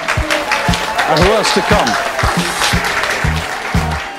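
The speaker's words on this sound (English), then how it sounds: "let's give them a round of applause, ladies and gentlemen" Applause from a fashion show audience runs under a presenter's voice as the models are introduced, a steady broadband patter of clapping filling the room beneath the announcing.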